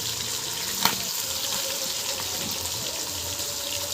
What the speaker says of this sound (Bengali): এবারে মাছগুলোকে এপিট ওপিট করে নিয়েছি, লাল হয়ে ভাজা হয়ে গেছে